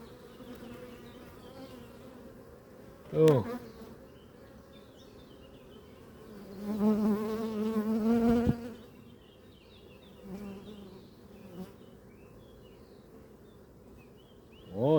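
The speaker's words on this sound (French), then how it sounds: "On va les mettre où il y a un peu plus d'abeilles." Bees hum in a steady drone around beehives outdoors in June, near and continuous, swelling as some fly close past, with a brief spoken word and occasional handling noises.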